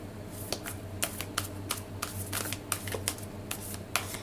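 Large oracle cards being shuffled by hand, a steady run of crisp riffling flicks and soft slaps close by, with no talking.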